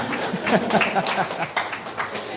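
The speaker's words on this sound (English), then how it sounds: "Men, clap for yourselves." Men in an audience clapping, a brisk flurry of scattered claps with a voice talking over part of it, at moderate volume.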